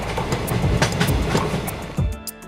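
A train running on rails toward New Jalpaiguri on an early morning journey, a steady rumbling roll with faint rhythmic clacks, fairly close and continuous, ending with a brief louder bump.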